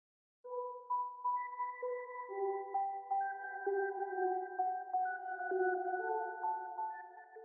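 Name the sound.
crushed bells sample from Arcade with effects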